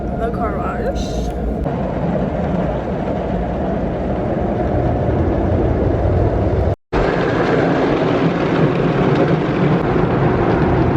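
An automatic car wash runs around a car, a loud, steady wash of spray and machinery rumble heard from inside the vehicle, with a brief dropout midway and a person talking over it.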